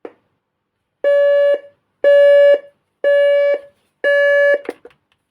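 Buzzer alarm of a Philips AJ3140 clock radio from 2000, sounding four loud, evenly spaced electronic buzzes, each about half a second long, heard close and alone.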